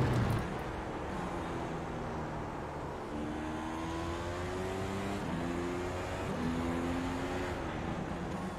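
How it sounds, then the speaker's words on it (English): A car engine hums steadily throughout, with rising and falling tones as it revs, fairly loud and continuous with no voices. "Sorry, it's really hard to hear with the engine sound."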